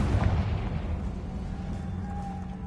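A Confringo fire spell bursts in the Hogwarts Legacy video game with a dull booming hit that rolls into a low fading rumble, fairly quiet and without speech.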